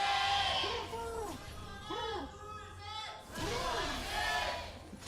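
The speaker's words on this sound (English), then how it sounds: "Decent cheer for Spenu from the crowd today." A crowd at a League of Legends LCK match in Yongsan, Seoul, cheering in swells, with a caster talking over the top throughout.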